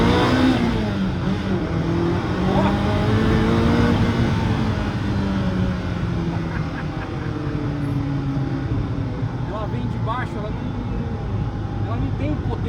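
A Ferrari F40 with its 2.9-litre twin-turbo V8 and five-speed manual builds and sweeps through revs. The engine note rises and falls, loud and continuous, with talk over it.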